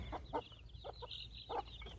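Backyard chickens, including a small black hen, cluck softly nearby in a few short bursts over a low background hum.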